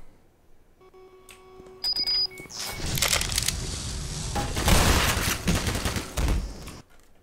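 After a few quiet electronic beeps and tones, a heavy burst of gunfire erupts in the first-person shooter Black Mesa, a loud, sustained run of rapid shots with crashing impacts that fades out near the end.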